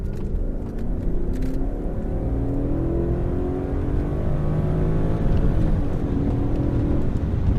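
A 2001 Audi S6 accelerates in drive on a test drive, its engine note rising steadily and loud up close for several seconds, with no talk over it.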